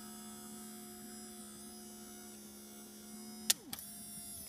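Rear hatch pull-down motor on a 1990 Pontiac Firebird, a steady low electric hum running for several seconds, then a sharp mechanical click and a brief whirring drop in pitch as it reverses.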